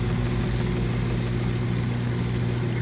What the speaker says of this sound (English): A big change in the stone in going to a soft wheel.